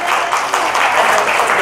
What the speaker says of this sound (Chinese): 我们掌声给到这位四宝的妈妈，太强大了